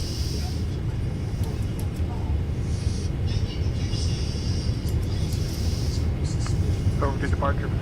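A large jet airliner on final approach to landing, its engines a steady, heavy low rumble that fills the cabin throughout, with faint higher whine and brief clicks near the end.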